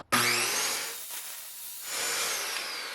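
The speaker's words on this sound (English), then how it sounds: "let's plug my saw in and do my first cut here" Power saw spinning up and cutting through a clamped board from a 100-year-old farmhouse door, a sudden loud start followed by a steady whining, rasping cut that dips briefly and then carries on close up.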